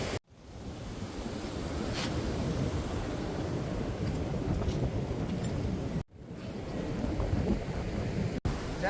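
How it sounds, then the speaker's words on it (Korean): Steady rain patters and hisses on a boat cruising the fjords out of Gudvangen, Norway, a dense continuous wash of noise with two brief dropouts and no talking. "지금 날씨가 비가 오고 있어요."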